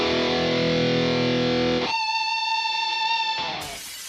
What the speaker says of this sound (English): my rhythm distortion patch on my pedal board